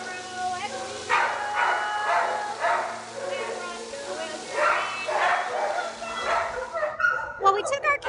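Dogs in animal shelter kennels bark and yip repeatedly, loud close barks in an uneven rhythm with some whimpering, echoing in the enclosed space.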